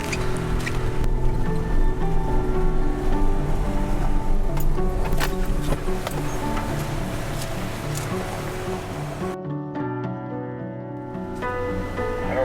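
A Chevy ZR2 rumbles steadily while driving through a trail puddle near Moab, water sloshing and splashing around it, with dripping and squishing sounds; the noise drops abruptly near the end.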